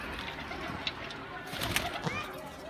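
A sick female pigeon coos softly at close range, making low murmuring calls amid faint background noise, with someone talking nearby.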